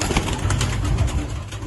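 Low, soft coos of a blind pigeon, a 2018 youngster, rolling continuously at close range, with a steady hum of background noise and no talking.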